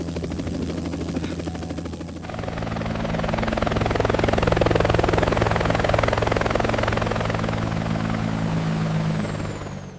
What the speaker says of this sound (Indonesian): Helikopter siapa ini?